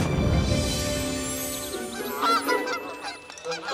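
Cartoon geese honk in a busy, layered chorus of overlapping calls at a car wash entrance, loud and continuous, with a musical backing underneath.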